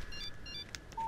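A short electronic text-message alert in the horror game Alan Wake, a quick series of bright beeping tones ending on a held tone, faint and brief against a low background hum.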